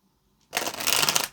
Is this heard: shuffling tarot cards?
yes